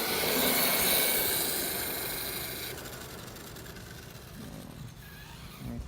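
A customized Marui Big Bear RC truck runs with a steady electric motor whine and rough buzz, fairly faint and close, the drone gradually fading a little as it drives on.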